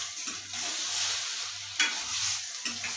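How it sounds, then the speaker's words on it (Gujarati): Spiced potatoes for a fasting-day dish are stirred with salt and spicy chutney in a hot pan, giving a steady soft sizzle with a few scraping strokes of a spoon, close and with no talk. "હવે આપણે એને મિક્સ કરી દઈશું."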